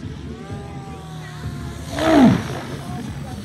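Protos 700 RC model helicopter climbing fast at a German show event, its motor and rotor noise rising to a loud roaring surge midway, then easing, heard from a distance over steady outdoor crowd ambience.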